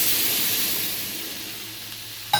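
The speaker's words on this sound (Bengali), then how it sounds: "দিয়ে এটাকে রান্না করব ভালো করে সাঁতলে নিই।" Ridge gourd sizzles in hot oil tempered with black cumin seeds, a steady bright frying hiss that slowly eases, ending with a brief louder clatter.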